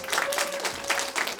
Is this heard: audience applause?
yes